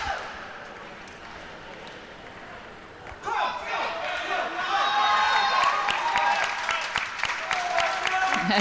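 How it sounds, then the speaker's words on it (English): Crowd at a para table tennis match swells into loud, sustained cheering, clapping and rhythmic chanting for a player called Jacko, rising sharply partway through after a quieter stretch of hall noise. "We're hearing rings of "Let's go Jacko" in the crowd here"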